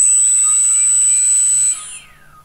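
A hexacopter drone's counterclockwise motor, motor 5 on a Pixhawk 6C running ArduPilot, spins for a set two-second motor test, giving a loud steady high whine that cuts off and winds down with a falling pitch.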